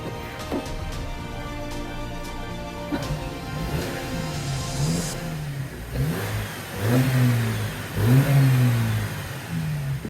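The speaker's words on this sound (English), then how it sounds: "Listen to this when I rev it." A BMW 318i engine idles with a light tick, then gets revved several times, each rev rising and falling, growing louder toward the end.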